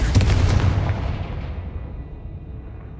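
Confringo spell blast in Hogwarts Legacy, a loud booming explosion that hits at once and then rumbles off into a fading tail over a few seconds, with no other sound around it.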